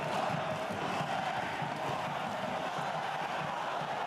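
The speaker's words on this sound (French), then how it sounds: "Le public de Mayol raccompagne ses joueurs avec des applaudissements." Stadium crowd at Stade Mayol applauding the RC Toulon rugby players at half-time of a Top 14 match against Bordeaux-Bègles, a dense, steady roar of clapping and cheering from a large, distant mass of spectators.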